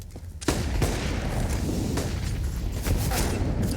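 Rapid AK rifle gunfire in Counter-Strike on the Inferno map during a professional esports match, dense overlapping bursts filling the whole stretch at steady loudness with no talk.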